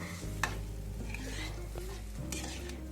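Spinach water goes into a pan of sizzling masala gravy, with a loud hiss and spatter, close-up clinks of a spoon against the pan, and brief stirring.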